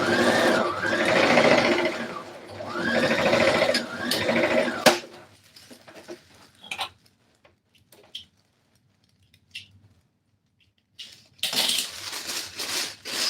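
A sewing machine stitches a Rwandese cultural dress in two loud, close bursts of rapid mechanical whirring, separated by a quieter stretch of light handling clicks and taps.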